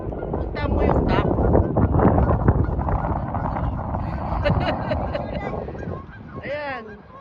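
A duck or goose honks several times outdoors, loud nasal calls standing out over wind noise and nearby chatter as someone chases it.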